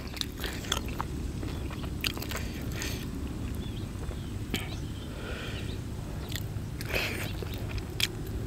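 Crunchy bites into crispy roast suckling pig skin, a series of sharp, close crackles and crunches at an irregular pace over a quiet background.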